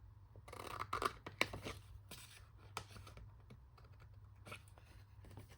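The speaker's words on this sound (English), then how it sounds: "I'm just going to angle cut this little piece and then cut up." Scissors cutting paper for a vintage-style gate fold craft folder, making close, soft snipping and crisp rustling in quick irregular strokes.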